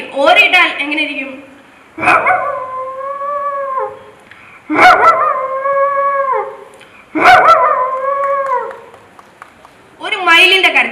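Mimicry performer at a state school arts festival voicing a dog's howl: four long, wavering drawn-out howls, each about two seconds, rising and sliding down in pitch, loud and close, separated by brief pauses.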